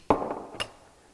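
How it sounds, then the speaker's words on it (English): A hammer strikes a metal coilover locking ring twice in a shop, first a sharp, loud clank and then a lighter tap half a second later, with a brief ring after each. "Got to have a hammer, and let's give it a couple of whacks,"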